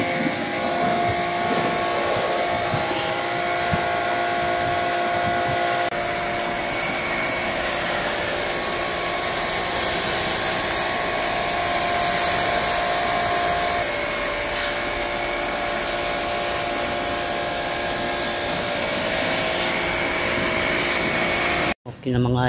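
An air blower cleans the filters of a floor-mounted air conditioner, giving a loud, steady whooshing roar that runs unbroken for about twenty seconds before cutting off abruptly.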